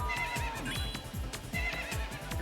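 Horse in the Sega game Super Magnetic Neo whinnies in short repeated bursts over busy, rhythmic game music and effects, loud and up close.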